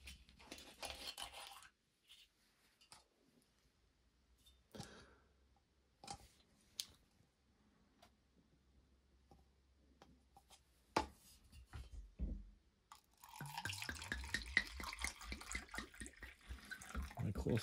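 Tap water runs into the tank of a 1200-watt handheld steam cleaner, a steady hissing pour heard near and loud over the last few seconds, after quieter handling clicks and taps.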